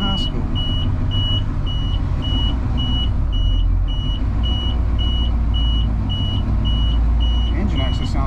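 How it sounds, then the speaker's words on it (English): A school bus engine idles with a deep, steady rumble, while a faint repeating beep pulses in the background and a voice talks briefly. "The engine actually sounds really good."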